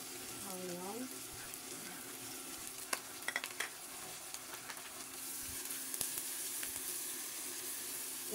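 Onions and a vinegar mix frying quietly in a pan give a soft, steady sizzle, with a few faint clicks and knocks of utensils and a short high tone early on; low and close, no speech.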